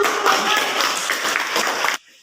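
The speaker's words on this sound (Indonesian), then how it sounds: "Baik, tepuk tangan" A class claps hands together during a teaching-practice lesson, a steady, fairly loud patter of many hands that carries on for about two seconds and then stops abruptly.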